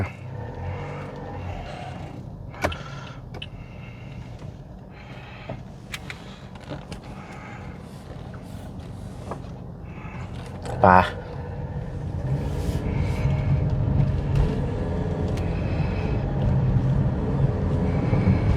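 A 2017 Toyota Vios 1.5 E engine hums and rumbles from inside the cabin on a test drive, steady at first and then swelling as the car accelerates, with a sharp clunk partway through and people talking over it.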